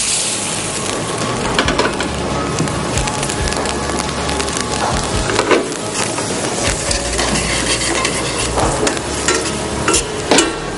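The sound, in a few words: bourbon poured into hot pan and flambéing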